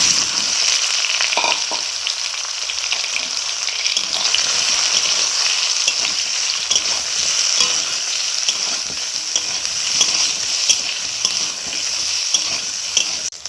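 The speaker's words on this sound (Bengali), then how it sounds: "তেলটা গরম হয়ে গেছে, বেগুনগুলো দিয়ে দেবো।" Eggplant pieces coated in turmeric fry in hot oil in a kadai, a loud, continuous close-up sizzle with steady crackling and no speech.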